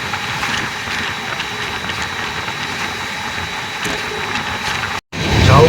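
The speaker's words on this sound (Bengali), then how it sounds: "130-এ চললে কিরকম শব্দ আসে ট্রেন থেকে সেটা অনুভব করুন।" The 12372 Bikaner Howrah Superfast runs at about 130 km/h, heard as a loud, steady rushing roar from inside the train. It cuts out for a moment near the end, then returns as a heavier low rumble.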